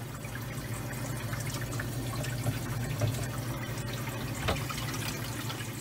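Water poured into the trough of a Hoshizaki ice machine that is not making ice, a steady continuous splashing wash with a low hum underneath and a couple of brief louder splashes, fairly close and without talk.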